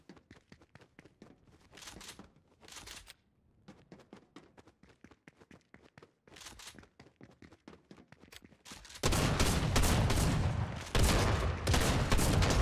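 Rapid bursts of gunfire from a gun in Fortnite Creative on a Nuketown map, clustered volleys that swell into a loud, dense barrage toward the end.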